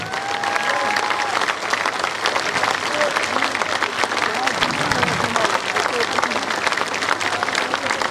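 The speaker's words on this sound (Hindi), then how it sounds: "ताली, जोर से ताली बजाइए।" A large crowd at the Jan Suraaj Party founding convention claps loudly and continuously, with speech and shouts mixed into the sustained applause.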